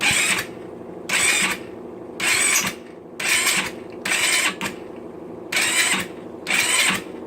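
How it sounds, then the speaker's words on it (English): GY6 scooter engine being cranked by its electric starter after the ignition is switched on, following a timing chain and valve adjustment: seven loud, evenly spaced whirring bursts of about half a second each over a steady mechanical rumble, with no talking. "Okay, so I'll turn on the ignition. Gonna fire it up."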